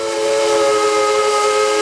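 Steam whistle of a K4 steam locomotive on the New York and Long Branch railroad, a steady, loud multi-tone chord held continuously with a breathy hiss, no voices.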